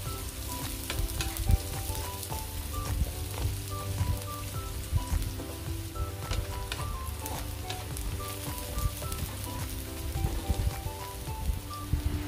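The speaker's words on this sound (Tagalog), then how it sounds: "Pag nagmedyo brown na yung ating garlic, pwede na nating i-add yung ating sibuyas." Onions added to browned garlic in a pan for Bicol Express, a steady close sizzle with intermittent stirring taps and clinks throughout.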